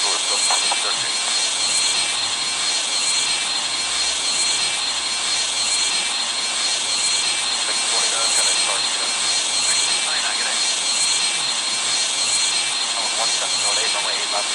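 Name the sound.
BAE146 jet engines during takeoff in Airline Commander video game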